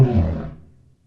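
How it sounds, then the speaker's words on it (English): A short, deep lion roar bursts out close and loud, then fades quickly over about a second, with nothing else heard. "Lion, lion."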